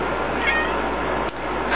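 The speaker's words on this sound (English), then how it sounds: "The cat's meowing at me." A cat gives a brief, faint meow over a steady hum of room noise, with a second soft cry near the end.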